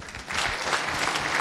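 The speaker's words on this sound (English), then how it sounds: "So a round of applause for Gildas and his talk about AI" Audience applause for a conference speaker at a talk on AI image search with Go and TensorFlow, a steady dense wash of many hands clapping throughout.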